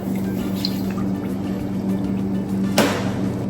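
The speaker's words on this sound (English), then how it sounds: "I'm going to be adding some warm purified water." Warm purified water being poured into a container for a stir-fry sauce, a steady close splashing pour with a low hum underneath and a brief clink near the end.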